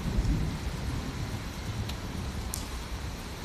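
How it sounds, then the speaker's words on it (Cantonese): Heavy rain pours down in a thunderstorm, a dense continuous hiss with deep rolling thunder rumbling underneath and a few sharp drop or crackle accents, loud and enveloping. "而家雨勢開始慢慢變細"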